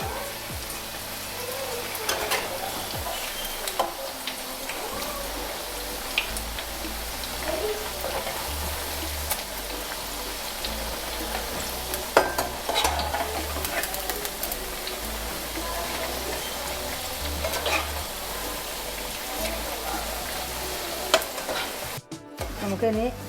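Pakoda fritters frying in hot oil give a constant loud sizzle and crackle, with occasional stirring scrapes and a brief clatter near the end.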